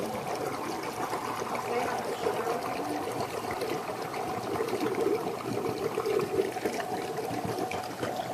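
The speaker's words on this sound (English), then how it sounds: "Now we're going to add the chocolate powder and hot water." Hot water is poured into chocolate powder while making chocolate Italian ice, a steady running pour that continues for several seconds, close by and without talking.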